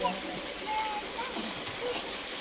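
Water runs steadily while hands are washed during a Hindu puja ritual, a soft continuous splashing flow with a voice faintly present.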